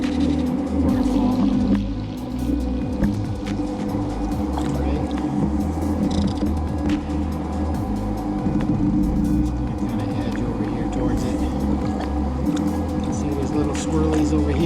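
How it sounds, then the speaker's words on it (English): Rushing water from a small waterfall over rocks, heard from a kayak on a coastal trip near Black Sand Beach, makes a loud, steady roar for the whole stretch, with a voice talking over it. "Beautiful waterfall here."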